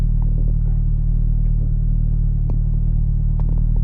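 Mitsubishi Evo 5 with new oil pan, sway bar and tires driving on a race track, a loud steady low engine drone and rumble from inside the car with faint clicks and knocks.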